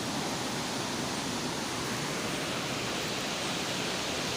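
A river flows steadily through the Sanghyang Kenit karst cave gorge near Bandung, a dense, even rush of water that holds constant with no other sounds.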